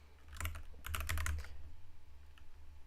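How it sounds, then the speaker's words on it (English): Quick typing on a computer keyboard, a fast cluster of close, soft key clicks that fades to sparse taps, with no voices. "I have already typed in the entire keyword"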